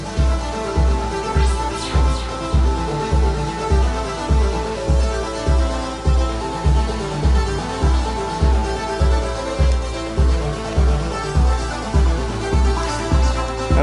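Steady pulsing modular synth pattern with raised filter resonance giving resonant, swishy tones repeating in a regular rhythm, loud and continuous with no talking.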